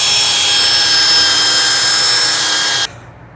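A power polisher buffs a car headlight, running as one steady, loud, high whine with a faint tonal hum that cuts off abruptly near the end, heard alone and close.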